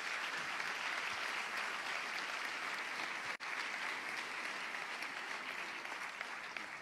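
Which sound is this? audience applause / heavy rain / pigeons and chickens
audience applause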